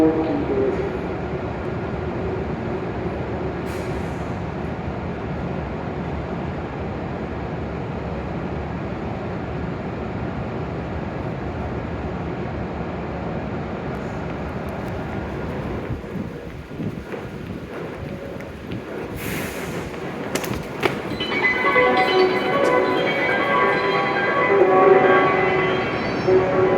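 Hokuriku Shinkansen E7 series train standing at platform 12 of Kanazawa station, bound for Tokyo: a steady low mechanical hum and wind rush fill the platform, rising toward the end as the train noise swells, with scattered clatter.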